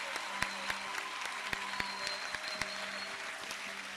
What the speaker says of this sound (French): Let us clap to the Lord.